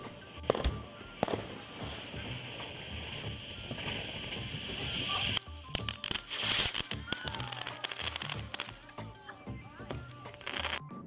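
Fireworks exploding, a string of sharp cracks and booms with crackling bursts scattered irregularly over several seconds, moderately distant, with faint voices in the background.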